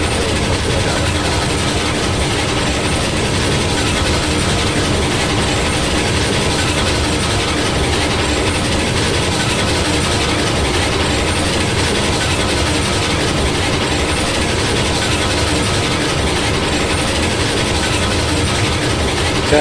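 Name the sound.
train running in the video game Railroads Online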